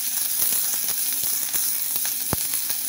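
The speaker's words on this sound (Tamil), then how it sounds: "வெங்காயத்தை நறுக்கி வச்ச வெங்காயத்தை போட்டுக்கலாம்" Chopped onions sizzle in hot oil with cumin, a loud, steady frying hiss close up with small pops and crackles scattered throughout.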